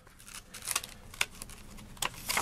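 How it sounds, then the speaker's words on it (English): Scissors cut open a package in short, crisp snips and rustles, a few separate bursts at close range with no talking. "here is my handy dandy scissors"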